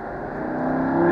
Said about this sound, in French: Allez, commence à accélérer, passe à gauche. Allez, vas-y, accélère.